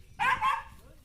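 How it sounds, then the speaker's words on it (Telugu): A single dog barks once, a short, fairly clear bark at a farm among ducks, chickens, goats and calves, followed by quiet. "ఓయ్ కుక్క కూడా ఉంది"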